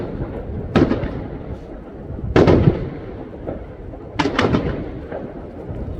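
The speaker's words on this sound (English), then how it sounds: "fireworks, more of the same" Fireworks for the New Year burst in three loud separate booms, each followed by crackling and rumbling echoes, heard from a moderate distance against a continuous low background rumble.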